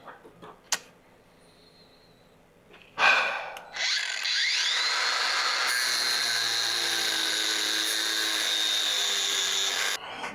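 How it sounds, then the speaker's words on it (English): An angle grinder spins up with a sharp rising whine and then cuts steadily through a piece of metal for about five seconds before shutting off. The grind is loud and sustained, preceded by a few handling clunks. "So we're gonna get the grinder, cut that off."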